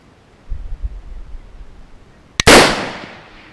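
A single sharp rifle shot from a budget LR-308 AR-10 in .308 at an outdoor range, loud and close with a long decaying blast, preceded by faint low handling rumble.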